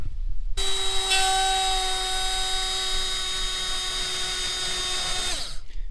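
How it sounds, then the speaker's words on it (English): A SpinSeal spin welding tool melting a fitting onto a main line starts abruptly and holds a loud, steady, high-pitched whine for about five seconds before spinning down and cutting off. "this thing is spinning. I don't know how many revolutions it's spinning, but it's creating friction and it's melting that nipple right into that main line"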